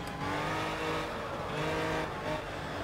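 Aston Martin race car engine in Project Cars, a steady loud engine drone with revving swells and a brief hint of tire squeal, with no talk over it.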